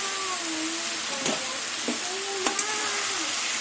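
Drumstick stalks, potato and shrimp fry together in a pan for a mustard-shrimp stalk chorchori, giving a steady close sizzle broken by a few sharp stirring clinks and scrapes, with no talking.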